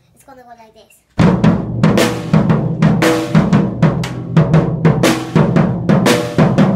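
A drum kit plays a stomp-stomp-clap groove, loud, close and steady with repeated hits, after a short stretch of quiet talk at the start.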